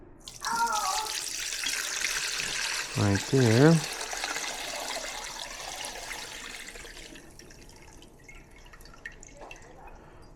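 Homemade limoncello is poured through a clean strainer, giving a steady trickle and patter of dripping liquid that fades toward the end. A person speaks briefly over the pour.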